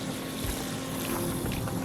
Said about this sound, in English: Everything's flowing. You can probably hear it. It's pumping, filling.